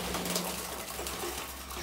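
Pigeons cooing inside a coop holding about 26 birds, a steady low murmur of overlapping coos continuing throughout with no talk.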